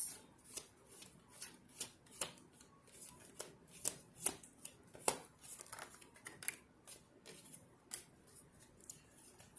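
A deck of tarot cards is shuffled by hand, giving soft, close riffling snaps repeated in an uneven rhythm. The snaps are faint overall, with quiet pauses between bursts and no speech.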